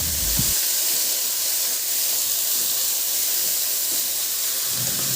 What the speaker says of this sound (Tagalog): igisa ko na rin yung bawang at sibuyas